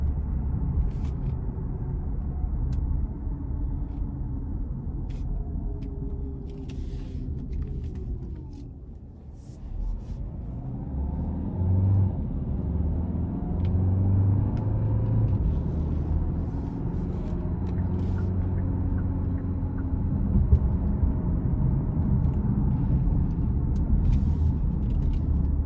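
A 2025 Hyundai Santa Fe Hybrid SEL accelerates in sport mode onto an interstate, a steady low engine and road rumble heard from inside that dips briefly, then swells and holds as speed builds.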